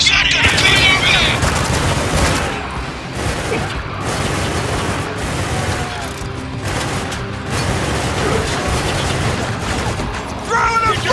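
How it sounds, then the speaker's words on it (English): Sustained gunfire in the war shooter Spec Ops: The Line, dense bursts and booms filling the scene with shouted squad chatter over it, loud and continuous throughout. "We're under heavy fire back here!"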